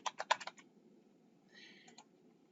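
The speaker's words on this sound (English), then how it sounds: "We can type in the text box, this is an example of an assignment." Computer keyboard typing into a text box, a quick run of close, crisp key clicks followed by a quieter pause and a couple more taps, no voice.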